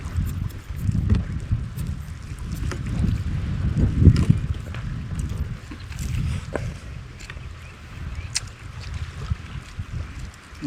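A small fishing boat's engine runs steadily on the water, a continuous low rumble mixed with wind buffeting the microphone.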